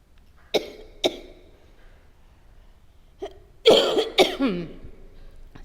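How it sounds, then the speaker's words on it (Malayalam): A person coughs: two short single coughs, a pause, then a small cough and a louder cluster of harsh, throaty coughs, close and with no other sound. "ചുമയൊക്കെ വരുന്നുണ്ട്"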